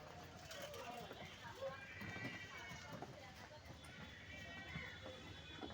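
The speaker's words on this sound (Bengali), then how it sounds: "এই যে ঘোড়ার গাড়িতে চড়ে আছে" Faint clip-clop of a horse-drawn cart's hooves at a quick trot in Bangladesh, under ongoing chatter and road noise, steady rhythm running throughout.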